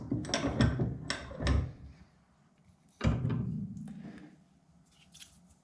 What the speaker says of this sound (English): Now gently clamp it into your vise